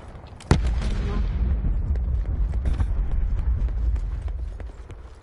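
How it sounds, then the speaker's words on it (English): A rocket explodes in a video game with one sudden, loud, close blast, followed by a rumbling low tail that slowly fades. "Where'd that rocket come from?"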